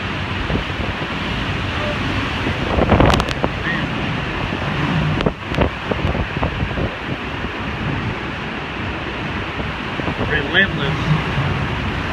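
Hurricane Michael's wind buffets a microphone in Marianna, Florida, a steady loud roar with gusting surges and a few sharp rattles and knocks throughout.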